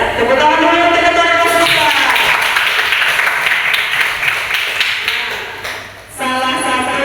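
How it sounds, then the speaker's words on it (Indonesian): A classroom of students claps together for several seconds, a dense burst of hand claps between stretches of voice, with a teacher speaking before and after. "Tepuk tangan dulu teman-teman"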